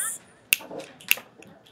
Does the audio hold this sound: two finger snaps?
yes